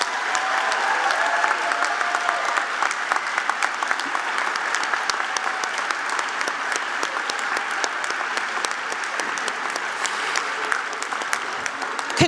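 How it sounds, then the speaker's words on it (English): Honored students at a high school academic honors banquet receive a long, sustained round of applause from the audience in a large room, steady and dense for about twelve seconds. "Round of applause and picture time."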